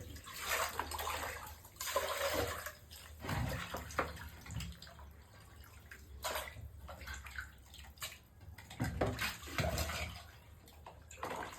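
Water splashing and sloshing in a basin, with repeated bursts of rinsing and swishing at close range, as fish are rinsed in three changes of water.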